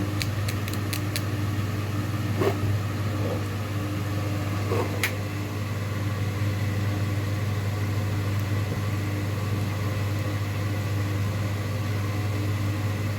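A homemade 12-volt, 100-watt transformer hums while powered, giving a steady low electrical drone with a faint broadband hiss and a few small clicks.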